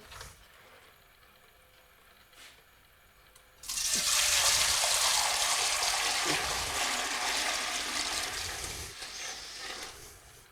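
Liquid from cheesemaking is poured back into a cooking pot, a sudden loud rushing splash that starts after a quiet stretch and carries on steadily, close by.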